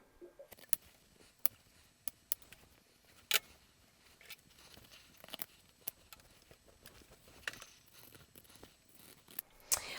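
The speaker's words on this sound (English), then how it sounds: "I'm just going to use my pinking shears to do that." Pinking shears snip notches into fabric on a sewing project, a series of sharp, quiet crisp clicks at irregular intervals, close up with no talk.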